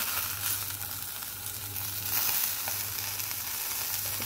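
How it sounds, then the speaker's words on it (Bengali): Fish and green chillies frying in oil, giving a continuous close, bright sizzle with a faint low hum beneath and no voices. "ভাজাতে লঙ্কা দিতে ভুলে গেছি, তাই এখন মাছের সাথে ভেজে নিচ্ছি।"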